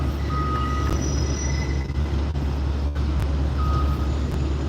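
A subway or elevated train passes in Brooklyn, a loud, steady rail rumble with metallic wheel squeal and a few high tonal whines over the roar, filling the whole clip with no talking.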